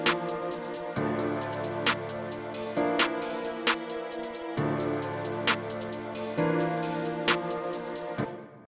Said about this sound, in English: And so I basically just took this shaker